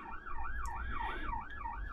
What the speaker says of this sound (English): Ambulances or something going by.